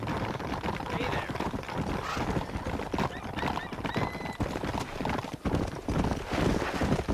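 In the Red Dead Redemption video game, horse hooves beat a quick, rhythmic clip-clop throughout, with a whinny and spoken dialogue over the galloping.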